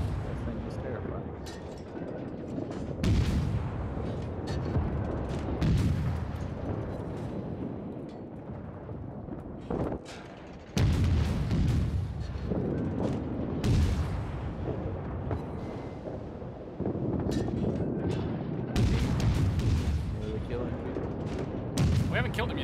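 Naval gunfire in World of Warships, with heavy ship guns booming repeatedly in loud, rumbling salvos every few seconds over continuous battle noise, while a player talks throughout.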